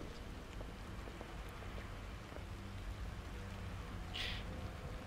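Steady rain hisses throughout a video game scene, a dense even wash of drops with faint scattered patters, no voices.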